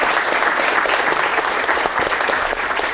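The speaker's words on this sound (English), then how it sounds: "Round of applause for Lorenzo and our other speakers." Audience applause fills a room at a design engineering evening for Lorenzo and the other speakers, a steady, dense clapping that holds at full level for the whole few seconds with no voices on top.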